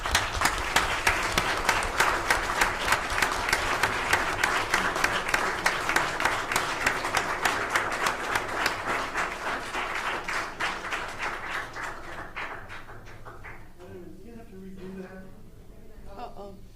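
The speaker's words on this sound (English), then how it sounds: "Let's applaud Anne" Sustained applause from a crowd at a city council meeting, dense steady clapping that gradually thins out and fades over the last few seconds.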